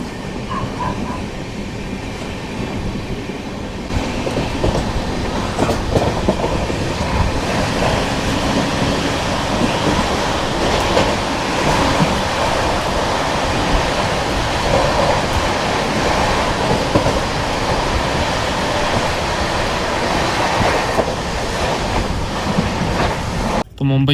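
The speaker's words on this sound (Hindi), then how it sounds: "लोकल ट्रेन्स के साथ पैरेलल, ट्रैक साउंड ज़बरदस्त।" The Mumbai Indore Duronto Express runs at night on tracks alongside Mumbai local trains, a loud continuous rumble with rhythmic clickety-clack of wheels over rail joints, steady throughout.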